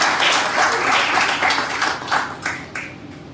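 Rice millers at a press conference in Chandigarh clap loudly together, a thick burst of many hands close by that thins into a few scattered claps and trails off near the end.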